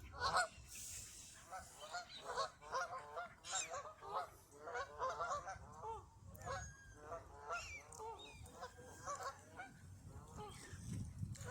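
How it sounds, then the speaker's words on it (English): A goose at a park pond with feeding gulls gives rapid repeated honks in an odd, harsh, bubbling series, fairly faint, over rustling background noise. "That's a very weird noise from a goose."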